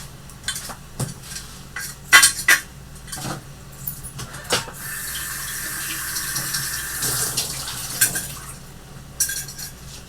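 A new bottle is rinsed out with water: running tap water splashes and sloshes, with intermittent clinks and knocks of glass against the sink and a brief steadier gush midway.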